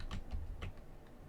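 Quick keystrokes on a computer keyboard while entering Python code, a handful of light close clicks in an uneven rhythm, quiet with no speech.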